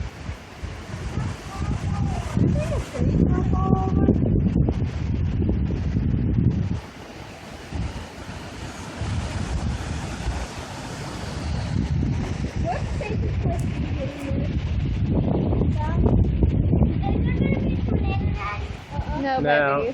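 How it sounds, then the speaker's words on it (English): Strong gusting wind during a windstorm roars and buffets the microphone in loud surges, easing briefly midway before building again, with people talking intermittently underneath. "Oh, it is just windy."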